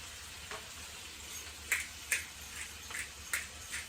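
Bacon frying in a small pan, a steady low sizzle with scattered sharp pops and crackles every half second or so, close and moderately quiet, no voices.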